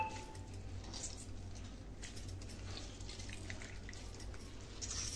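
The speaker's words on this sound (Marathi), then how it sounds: "आता त्याच्यामध्ये पाणी असतं तर पिळून घ्यायचा आहे" Water is squeezed out of grated bottle gourd by hand for a kheer, a soft, steady trickle and drip close by, quiet and continuous with no voices.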